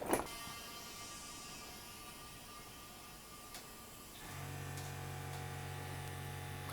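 A pump switches on partway through to inflate the flat tyre of a Suzuki Katana motorcycle, setting up a steady, close mechanical drone after a quiet, humming stretch, with no talk.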